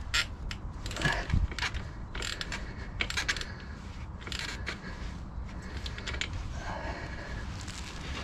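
Close metallic ratcheting and clicking of a socket wrench working on the bevel box of a Moto Guzzi V7 motorcycle, irregular clusters of clicks over a low background rumble.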